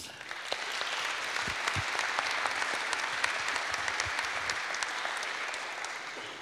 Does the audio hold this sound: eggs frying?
no